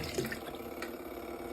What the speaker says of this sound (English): is the clothes washer.